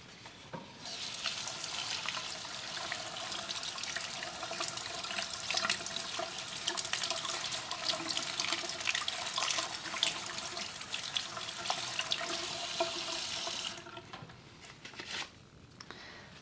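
Running water from a bathroom tap splashes steadily and fairly close while a houseplant is rinsed, a continuous bright hiss lasting most of the time before cutting off near the end.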